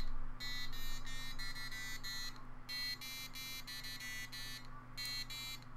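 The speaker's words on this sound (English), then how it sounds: "that's the new current alarm sound" A homemade alarm clock sounds its alarm: repeated bursts of a rapid, harsh electronic buzzing beep come in three groups over a low steady hum, fairly faint and with no talking.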